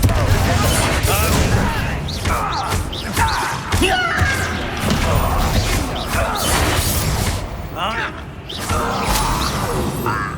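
Confringo blasting spell cast in the Hogwarts Legacy video game during a fight with Ranrock loyalists, its bursts and whooshes landing among dense, loud game effects and crashes with a steady backdrop throughout.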